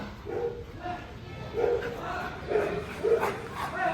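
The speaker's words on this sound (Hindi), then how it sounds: "जैसे कोई आया सभी भौंकने लग गए" Several dogs, including a German Shepherd, bark repeatedly at once as someone arrives at the main gate, a busy overlapping chorus of barks and yips with a person talking underneath.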